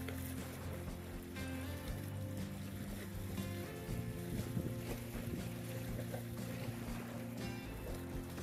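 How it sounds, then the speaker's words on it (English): Strong wind buffets the microphone on a Scottish island shore during lure fishing, a steady roaring rush with gusty swells and no talk throughout. "it's very windy."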